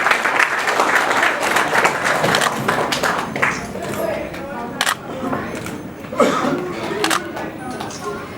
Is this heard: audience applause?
yes